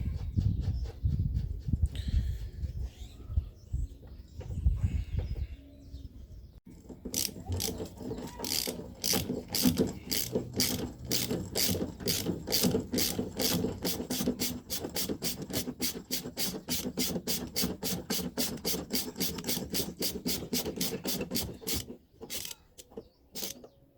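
Rapid ratchet wrench clicking while a bolt is tightened on a Chevy ute control arm, a steady run of sharp metallic clicks close up after some low handling noise, ending in a few last clicks.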